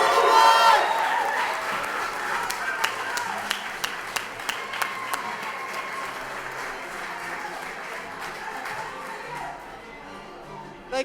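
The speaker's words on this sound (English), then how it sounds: "let's give the kids one more round of applause." At a school committee meeting, an audience claps for children, starting as a loud full round and gradually thinning into scattered individual claps that fade out near the end.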